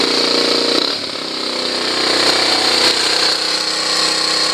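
A Honda CT110 motorcycle engine idles steadily after its carburetor idle mixture is adjusted, a continuous close rumble with a brief dip in tone near the start, then an even putter with no talk.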